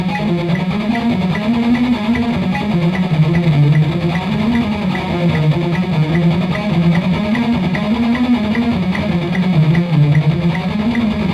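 Distorted electric guitar double-picks a metal shred passage, each note struck twice in rapid sixteenths, forming a dense, continuous, loud run with no voices.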